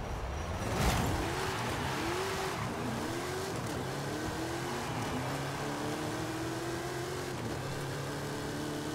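A souped-up 1500 hp Barracuda accelerates in Forza Horizon 5 with a loud, close engine roar. Long rising revs climb through the gears, each shift slow to arrive.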